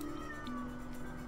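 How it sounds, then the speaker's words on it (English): Pet cat in The Sims 4 meowing, a drawn-out tonal meow that rises slightly then falls, faint under a steady wash of background game music. "Why is my cat meowing at me?"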